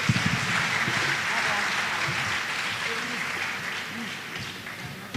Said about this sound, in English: Let's give the special one a big round of applause.